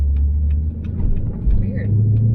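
Car engine downshifting on the road, a loud low rumble throughout with a brief swell in pitch and level midway, heard from inside the cabin.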